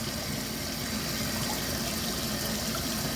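Tap water runs steadily into a sink for washing eggs on a farm, a continuous broadband rush with no breaks, close and fairly loud, with no talking.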